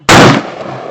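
A single loud, close blast from an Everbest 12-gauge shotgun fired at a target, a sharp crack followed by a short decaying boom.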